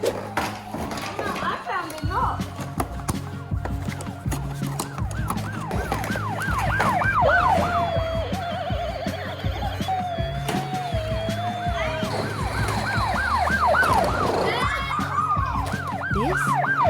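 A toy police car's electronic siren wails loudly in a repeating up-and-down pattern beside other toy vehicle sounds, with voices talking in the background.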